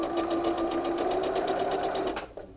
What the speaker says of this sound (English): your floppiest arc goes on the top, and I'm going to sew that together